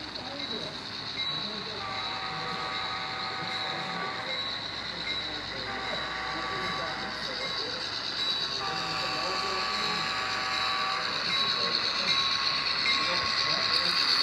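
A Naugatuck Valley Tourist Railroad train in Connecticut rumbles along the rails with a steady hiss and rolling noise, its tonal whine rising and falling, a voice speaking faintly over it.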